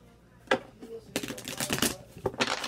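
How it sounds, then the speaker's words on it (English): Tarot cards being shuffled in quick riffling bursts, a short flutter followed by two longer rapid rattling runs, close to the listener. "Let's get one more shuffle."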